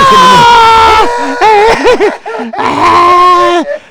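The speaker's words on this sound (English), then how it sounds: "10 Second Scream" A scream sound effect, loud and close, made of long wavering screeching cries broken by brief gaps, with a bleating, animal-like quality.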